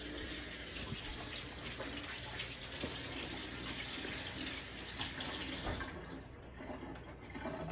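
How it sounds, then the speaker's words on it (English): Carrots and purple beans washed under a running kitchen tap, a continuous close gush of water with light splashing as the vegetables are handled, the flow stopping near the end. "Gonna give the carrots and the beans a little wash."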